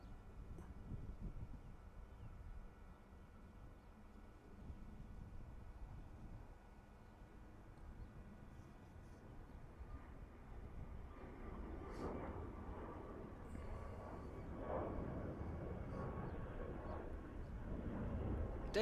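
An aircraft passing over Dublin Airport, a faint broad roar that slowly builds louder toward the end amid light outdoor wind noise.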